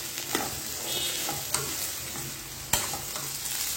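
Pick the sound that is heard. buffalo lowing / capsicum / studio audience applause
capsicum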